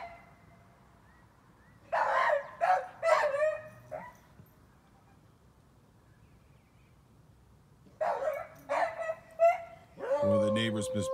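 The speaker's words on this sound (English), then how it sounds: "She found something to bark at." A beagle lets out a quick series of loud barks, falls quiet for several seconds, then barks again in another burst.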